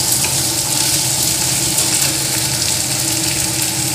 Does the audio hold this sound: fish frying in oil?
yes